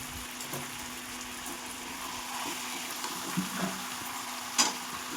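Mutton curry with potatoes, with extra turmeric just added, sizzling softly in a pan as it is stirred, a quiet, steady fry with a few light scraping knocks and no voices.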